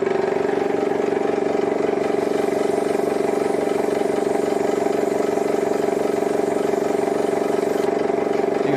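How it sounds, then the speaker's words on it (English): A small air compressor for an airbrush runs steadily nearby, a loud, even mechanical hum with a fast regular pulsing throb that carries on unchanged throughout. "So we'll just switch on the compressor and we'll see how we go."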